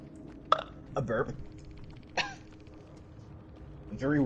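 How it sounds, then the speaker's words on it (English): A person lets out a watery burp during an online gaming session, with several short throaty vocal bursts spread across a few seconds and other vocal sounds nearby. "A burp."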